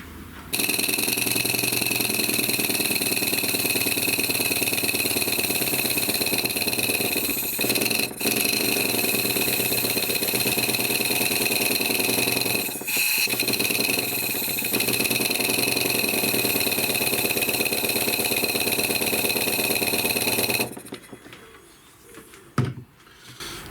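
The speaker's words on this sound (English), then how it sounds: "let's get the compressor and give it some air and see what it looks like when it's running up" A Stuart Models 10V model steam engine, running on compressed air from a compressor, chuffs in a rapid, even, close-up rhythm with a hissing whir for about twenty seconds before stopping, followed by a few faint knocks.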